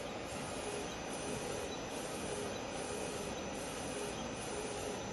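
A 24-inch UV/DTF printer prints film with a continuous loud mechanical whir and hiss, a steady drone with faint periodic pulses, no voices.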